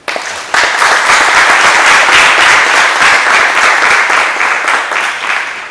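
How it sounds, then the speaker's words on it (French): Audience applause for taekwondo athletes from Côte d'Ivoire bound for the Olympics, a dense, steady roar of clapping from a large crowd that breaks in suddenly and keeps going at full strength for several seconds. "Comment ne pas vous applaudir?"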